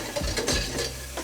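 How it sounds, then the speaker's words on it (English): Green onions stir-fried in a wok or nonstick pan, with a few quick scrapes and tosses of a utensil over a soft sizzle, close and fairly quiet. "Now the green onions, so we're stir frying those as well."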